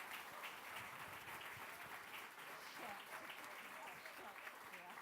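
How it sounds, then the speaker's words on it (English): Steady applause from a crowd at a community event fills the whole stretch, a dense, even wash of clapping at a moderate, slightly distant level. "a round of applause for these folks who gave their time"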